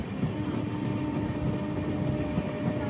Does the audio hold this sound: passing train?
yes